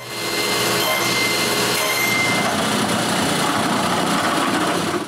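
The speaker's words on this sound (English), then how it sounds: "Then I cut a center groove." A power saw cuts a center groove into a wooden block for a homemade wooden bandsaw's blade guide holder, a steady loud whining cut with a low rumble running unbroken through the whole stretch.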